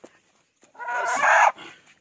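A chicken clucks and squawks in a short loud burst after a near-silent moment, followed by a softer cluck.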